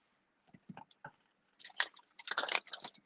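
Chips get chewed up close, a few soft isolated bites at first, then a run of sharp, loud crunches toward the end, with no voices.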